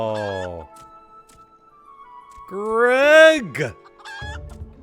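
Chicken clucking in Final Fantasy XIV: a loud, strained squawk rising into a warbling cry amid a short exclamation and light game sounds, with a few brief clucks before and after.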